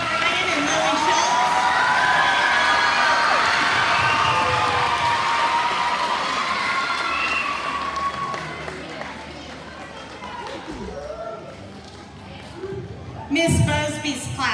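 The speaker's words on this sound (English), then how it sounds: "Can we please get a round of applause for our MCs, Keegan O'Brien and Lily Schultz?" Audience at a 2019 elementary school fifth grade moving-on ceremony applauds and cheers, a dense crowd of clapping and children's shouts that gradually fades toward the end.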